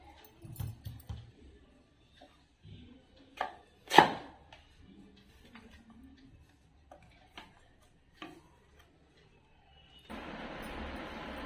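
Raw mango being chopped into pickle pieces with a knife on a board: a few faint, scattered chops with quiet gaps between them, followed by a steady soft hiss near the end.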